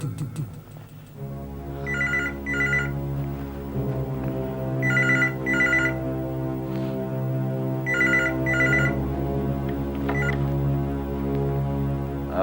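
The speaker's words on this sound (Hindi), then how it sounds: "लो, उसी का फोन होगा।" A telephone rings in repeated double bursts, four clear ring pairs spread across the clip, loud and close over a steady low background hum with no talk.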